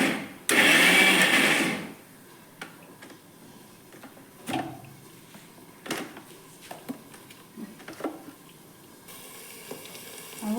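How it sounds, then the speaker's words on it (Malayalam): Mixer grinder's small jar briefly crushing coconut, green chilli and shallots, a loud whirring burst lasting under two seconds at the start, followed by quiet kitchen clinks and taps. "ഇനി മിക്സിൻ്റെ ചെറിയ ജാറിലിട്ട് ഒന്ന് ചതച്ചെടുക്കണം കേട്ടോ"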